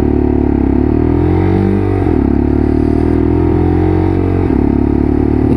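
A Lexmoto LXR motorcycle engine idles and revs with a steady, throaty stock-exhaust rumble, loud and close, with two brief dips in pitch as the throttle eases.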